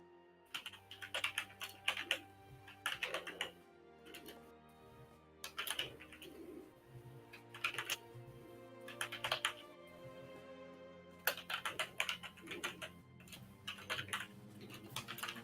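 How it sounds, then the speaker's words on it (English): Rapid bursts of typing on a computer keyboard, clustered clicks coming in uneven runs with short pauses, close and clear over a faint steady hum, no voices. "from the sounds of that typing"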